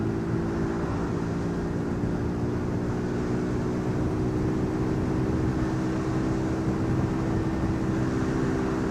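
A Yamasaki Fosti F50 50cc geared moped hums at a steady cruising speed on a flat road, giving a constant, even engine drone with wind noise and no change in pace.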